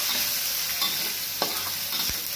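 Ginger garlic paste sautés in a hot pan with a steady, bright sizzle, broken by a few quick scrapes of a stirring spoon, close and alone.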